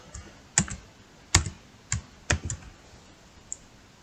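A handful of crisp, separate keystrokes on a computer keyboard, close and fairly quiet, spaced out at an uneven pace against a soft background hiss.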